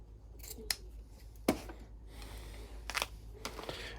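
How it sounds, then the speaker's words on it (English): Scissors cut through polyester ribbon nearby, producing several crisp, separate snips and clicks at irregular intervals over a quiet room background, with no speech. "the first step is to go ahead and cut your ribbon"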